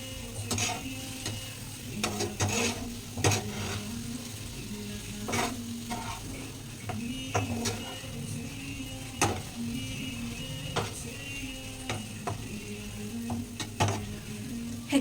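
Spoon stirring egg curry with chili powder in a frying pan, a steady run of scraping strokes over a soft sizzle, close and with no talking.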